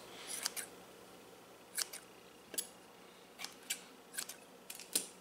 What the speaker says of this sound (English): take your scissors and just cut these tails short